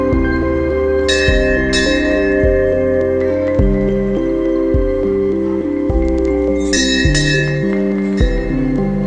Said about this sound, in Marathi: तिला घंटी वाजवायची होती म्हणून उडी मारून ट्राय करत होती